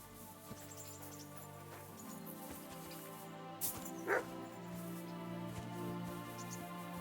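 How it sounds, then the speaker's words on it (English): A dog barks in Kingdom Come Deliverance 2, a couple of short yips rising briefly above a steady background of game music and ambience, heard at moderate distance. "Barking."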